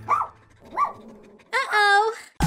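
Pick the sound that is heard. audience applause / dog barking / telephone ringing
dog barking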